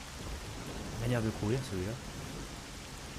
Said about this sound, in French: Commence à pleuvoir